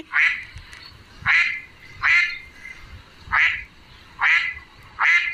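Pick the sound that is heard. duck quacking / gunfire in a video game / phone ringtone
duck quacking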